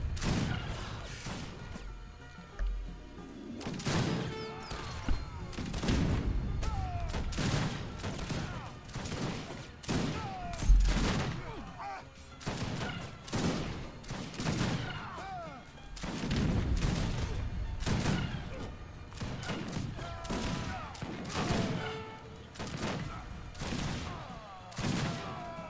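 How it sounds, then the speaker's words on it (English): Mortar fire in Age of Empires 3 (Wars of Liberty mod), a dense run of repeated loud booming blasts and crashes in irregular bursts, layered with battle clatter throughout. "Mortars."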